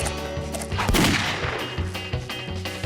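Rapid cartoon gunfire in a Wild West setting, a dense close volley of sharp cracking shots repeating over a few seconds.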